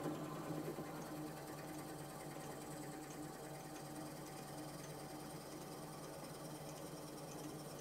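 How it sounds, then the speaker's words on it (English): A drill bores a post hole through a turned butternut wood lamp, giving a continuous, steady mechanical drone at even loudness throughout, with no talking. "we're going to run the hole for the post all the way"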